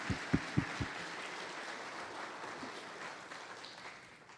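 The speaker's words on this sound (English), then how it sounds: "let's give them another round of applause" A conference audience applauds for an annual housing event. A few distinct loud claps open the clip, followed by a steady wash of clapping that slowly fades.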